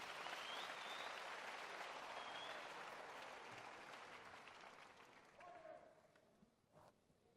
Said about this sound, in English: Clap your hands for Jesus Christ if you can.